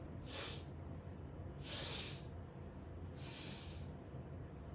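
Three sharp sniffing breaths through the nose, evenly spaced about a second and a half apart, each a short airy burst over a low steady hum.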